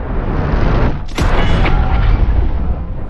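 Two off-the-shelf pistols firing, their bullets colliding at a 90° angle, give one loud booming blast over a dense, continuous rumble of background noise, with no talk.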